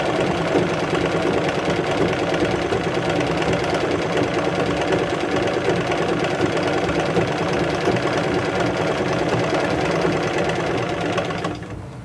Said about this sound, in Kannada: ಅಲ್ಲಿಗೊಂದು ಹೊಲಿಗೆ ಹಾಕ್ತಾ ಇದ್ದೀನಿ